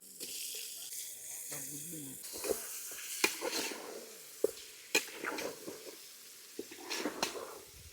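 Chicken pieces dropped into a hot pan of fried onion, tomato, salt, turmeric and masala during outdoor hilltop cooking; sizzling frying with scraping stirs and sharp spoon-on-pan clinks, a brief voice near the start.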